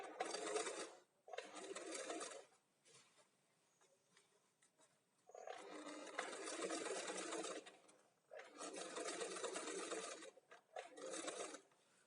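A sewing machine stitches the seam of an A-line dress in four bursts of steady running, separated by short pauses with quiet handling noise in between.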